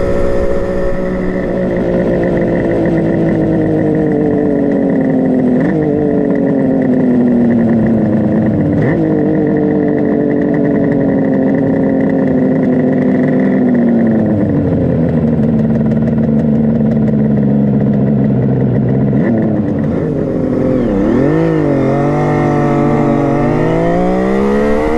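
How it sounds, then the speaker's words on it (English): A 1976 Kawasaki KH500 H1 motorcycle cruises on the interstate, its two-stroke engine droning steadily and loudly for the whole stretch, with pitch shifts as it changes speed and a rising rev near the end, plus wind noise. "So for a 47-year-old motorcycle, I'm really happy with how she handles."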